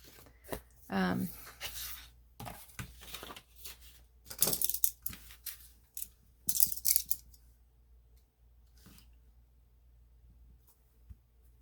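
Scissors snipping off the back flaps of a cardboard piece, a series of close, crisp cuts and crinkling rustles in short bursts, with pauses between.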